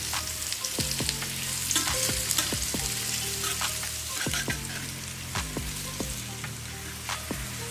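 Potato slices pan-fry over medium heat with a constant crackling sizzle, broken by a series of regular low scraping knocks as the slices are turned and stirred, and no one talking.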